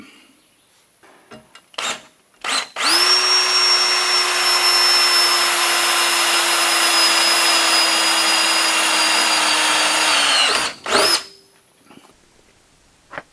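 A power drill whirs steadily at high pitch for about eight seconds, drilling holes in a metal plate, loud and close, with a few short clicks and knocks before and after.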